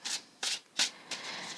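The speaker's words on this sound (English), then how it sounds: "Right, I am just shuffling" Three or four quick papery riffles of tarot cards being shuffled by hand, close and soft, with short pauses between bursts.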